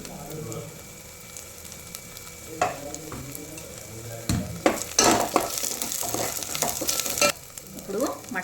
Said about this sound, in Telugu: ఈ అల్లం ఎల్లిగడ్డ పేస్ట్ను మంచిగా వేయించుకోవాలి ఇప్పుడు పసుపు వేసుకుంటాన్నా